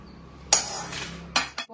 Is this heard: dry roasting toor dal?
yes